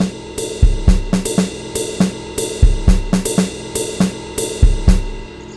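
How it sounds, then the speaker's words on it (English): A jazz drum kit beat from the Groove Pizza sequencer loops steadily, with a shimmering ride cymbal and swung kick and snare hits in a close, even, repeating groove. "Jazz sounds like this."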